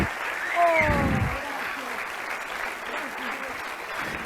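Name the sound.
audience applause at a theatre show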